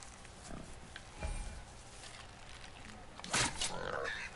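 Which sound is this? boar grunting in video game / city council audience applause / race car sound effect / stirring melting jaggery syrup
boar grunting in video game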